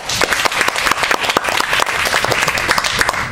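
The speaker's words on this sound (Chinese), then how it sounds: "有，就给他一个掌声。" A crowd at a Chinese speech contest breaks into loud, close applause, dense overlapping claps filling a few seconds.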